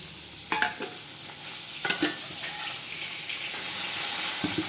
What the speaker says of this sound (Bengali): রুই মাছ ভাজা হচ্ছে